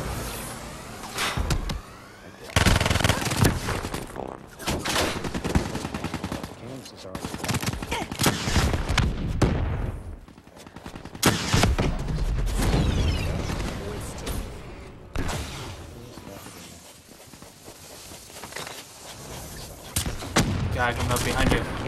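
Dense bursts of shooter video game gunfire fill the stretch, loud and nearly continuous with rapid volleys and heavier blasts, mixed with game effects and occasional talking over it.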